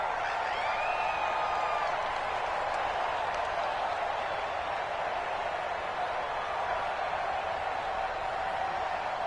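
A dense, steady roar of a large stadium crowd in an American football video game, with scattered cheers, continuous and loud throughout.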